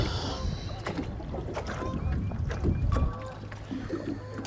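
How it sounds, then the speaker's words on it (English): Strong wind outdoors roars into the microphone as a low, continuous buffeting rumble, with scattered light knocks and clicks over it. "Wind is ripping."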